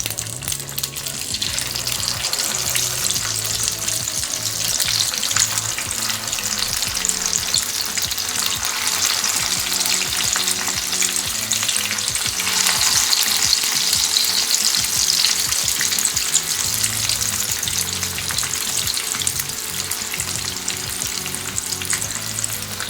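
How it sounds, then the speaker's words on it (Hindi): Chicken kandi fries in hot oil in a pan over a medium flame, a loud, dense, continuous crackling sizzle that holds steady throughout with faint stirring noises. "अब जैसे हमारा तेल गरम हो जाएगा, हम गैस की फ्लेम को मीडियम कर देंगे और एक एक करके हम कांडी को पैन में डाल लेंगे।"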